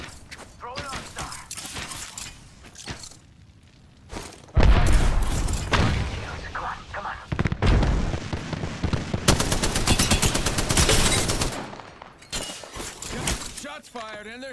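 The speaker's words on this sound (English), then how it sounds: "Shots fired, and they're hitting me." Heavy automatic gunfire and explosions from a battle royale shooter, Apex Legends, rattling in long loud bursts with shattering impacts while a player talks over much of the action.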